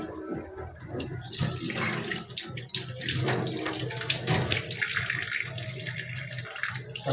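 Tap water runs steadily into a sink while small ayila fish are washed, a close, continuous splashing gush with shifting texture as the fish are handled under the stream.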